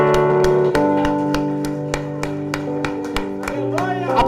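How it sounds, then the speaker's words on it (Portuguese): A church congregation claps in a steady rhythm, sharp regular claps over sustained keyboard-like music and voices that carry throughout. "Você pode aplaudir o nome de Jesus?"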